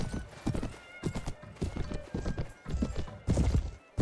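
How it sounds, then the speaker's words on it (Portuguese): Horse hooves clip-clop in a steady trotting rhythm in a Minecraft 16th century mod, with snorting and neighing mixed in, loud and close. "Se apertar Ctrl J, você dá uma empinada com o cavalo, você para ele."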